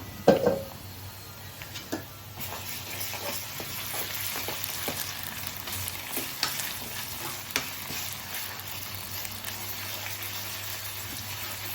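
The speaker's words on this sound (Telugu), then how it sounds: "ఒక నిమిషం వేగనిద్దాము అల్లం వెల్లుల్లి పేస్ట్ వేగి కమ్మని వాసన వస్తుంది" Ginger garlic paste sizzles and crackles steadily in a hot pan with fried onions and a green chilli, scattered scraping clicks of a spoon stirring through it, close and without talk.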